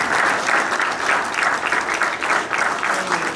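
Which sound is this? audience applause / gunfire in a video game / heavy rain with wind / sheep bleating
audience applause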